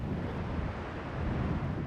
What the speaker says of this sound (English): the ocean below was a violent wash tub of 6 to 8 foot waves